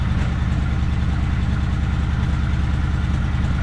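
Kawasaki Vulcan 900 Classic LT motorcycle engine idling just after starting, a loud, close, steady low rumble with a rapid even pulsing beat and no voices.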